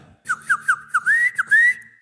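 A loud whistle made with fingers rings out in a quick series of sharp rising bursts, then a longer sustained note, close and alone.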